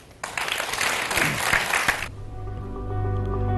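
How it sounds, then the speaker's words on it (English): A burst of crowd applause for guest speakers at the Boao Forum for Asia 2016, loud and dense for about two seconds, then cut off abruptly, leaving a low hum. "Let's give them a warm applause."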